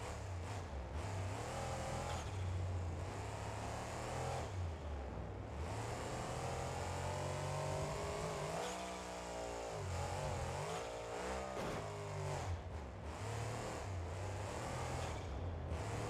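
A monster truck engine of nearly 1800 horsepower in the driving game BeamNG.drive, rumbling steadily and loud, then swelling through a couple of sharp revving climbs before settling back into a throaty idle, with no talking over it.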